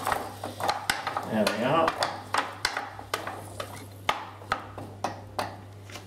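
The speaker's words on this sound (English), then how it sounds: "Get them stirred around so they're coated with the oil." Sweet potato pieces are stirred in oil in a pan, with a run of sharp, evenly spaced clicks and scrapes from the utensil against the pan, and a voice speaking briefly at the start.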